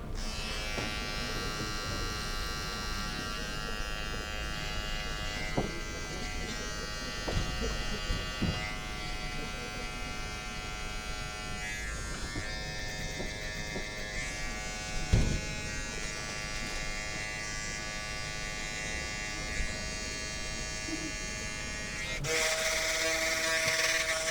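Electric hair clippers buzz steadily while lining up a taper fade haircut, a close, continuous hum with small shifts in pitch as the blade moves, ending in a slightly louder stretch.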